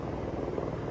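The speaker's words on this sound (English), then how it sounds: "A lot of helicopters," A steady, rapid rotor chop with a low droning hum fills the brief moment, a helicopter passing at moderate distance near Grindelwald in the Swiss Alps.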